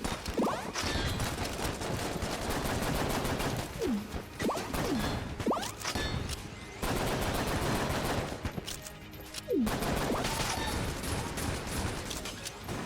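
Rapid bursts of gunfire in the twin-stick shooter Enter the Gungeon during a boss fight, dense overlapping shots and whooshing projectiles, loud and continuous with short sharp cracks and brief pauses.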